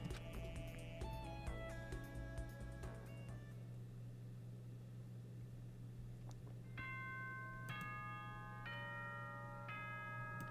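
A chiming bell melody from the video game Danganronpa: Trigger Happy Havoc, sounding as a few clear ringing tones early on and a brighter repeated chime later, over a steady low background hum.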